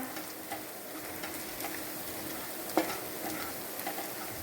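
Cauliflower florets being mixed with turmeric, chili and coriander powder in a pan for cauliflower roast, giving a steady low sizzle with soft intermittent scraping and one sharper clink near the end, no talk.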